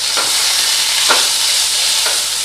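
Rui fish frying in hot oil in a pan, a loud continuous sizzle and spatter with a few brief stirring scrapes, no voices.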